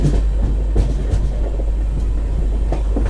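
A passenger train travelling between Krishnanagar and Azimganj, heard from on board as a steady low rumble with faint wheel clacks, continuous and fairly loud throughout.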